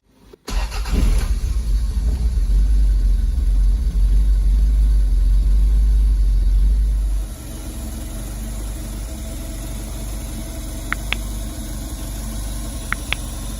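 A Toyota MR2 engine cranks and catches, roaring loudly at a high idle for several seconds before dropping to a steadier, quieter idle, heard close with a couple of faint clicks near the end.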